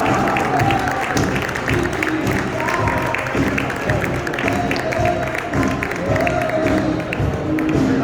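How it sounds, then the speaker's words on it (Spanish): An audience at a karting event podium ceremony applauds the third-place finisher, a steady crowd clapping at moderate loudness with voices mixed in throughout. "un fuerte aplauso para Roberto de la Serna"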